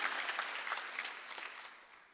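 A church congregation claps together during a Korean New Year's Eve worship service, a brief burst of many hands that swells quickly and then tapers off over about two seconds.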